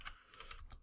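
Several quick keystrokes on a computer keyboard, about four light taps in under a second, close and clear with no voices.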